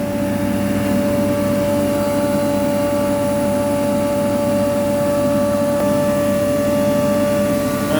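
A Butler vacuum blower runs continuously during a wash-out, a steady loud mechanical drone with a fixed whining tone and no variation or voices.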